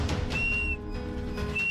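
A person trapped hanging in a deep ravine whistles two thin, sustained tones separated by a pause, faint against a rumbling, wind-like background.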